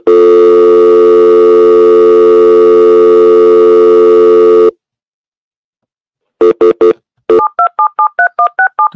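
A loud steady telephone tone runs for several seconds, stops, then a quick burst of DTMF dialing beeps follows as a dropped conference call is redialed, all close and without speech.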